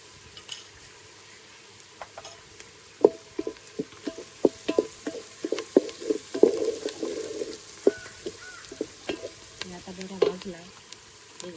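Chillies, mustard seeds and turmeric sizzling in a pan for a raw jackfruit curry, a steady close fry with scattered crackles and pops and occasional stirring scrapes.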